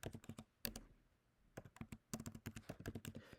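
Quick bursts of key presses on a computer keyboard as an unlock code is typed in, clustered clicks with a short pause between groups, close and fairly quiet with no talk.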